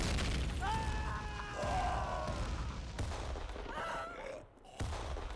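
Gunfire and explosions in the video game The Xcom Files, dense bursts of shots and booms layered with whistling tonal effects, loud and continuous, with a brief drop near the end before resuming.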